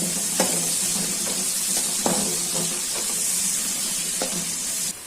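Onions sizzle and hiss steadily in a hot pan, with a few sharp clinks of a utensil stirring at intervals.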